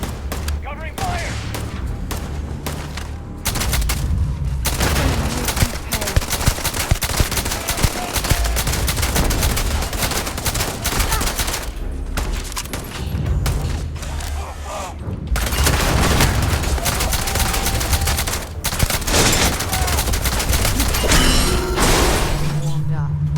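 Heavy video game gunfire, dense rapid bursts and shattering impacts pouring out in long stretches with brief pauses, loud and close, while a voice talks over it.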